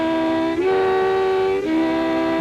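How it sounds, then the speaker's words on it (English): A C harmonica plays a chord on holes one to four with lips held too tight, giving a loud, steady, reedy drone that shifts pitch twice as the player switches between blow and draw. "if the harmonica seems to be resisting you, well, your lips are too tight"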